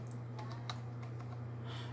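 Arrow keys tapped on a computer keyboard while working in Word 2019, several light, irregular clicks over a steady low electrical hum.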